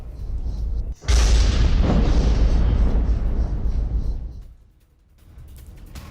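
An Israeli airstrike in Baalbek, Lebanon, lands as one sudden heavy blast. A long rumbling roar follows and fades over several seconds, and a softer background rumble remains afterward.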